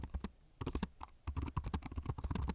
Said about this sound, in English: on a mechanical keyboard with clicky blue switches, meaning it feels very satisfying to type on